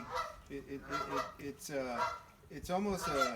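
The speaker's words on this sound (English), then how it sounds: "The geese are calling me because I feed them" Geese honk repeatedly, a clustered series of nasal calls up close, with someone talking over them.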